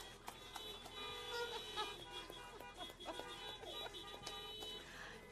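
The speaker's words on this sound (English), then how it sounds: "Can we get some honks?" Car horns honk at a Veterans Day luncheon, several overlapping toots of different pitches sounding in a loose, uneven cluster from some distance.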